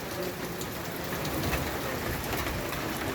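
Steady, dense rain pouring down over farm fields, a continuous broadband hiss of drops hitting surfaces with no break for the whole stretch.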